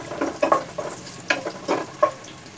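Onions frying in hot oil for seafood bam-e with pancit, soft crackling sizzle broken by a few short bursts of stirring or scraping, close and fairly loud.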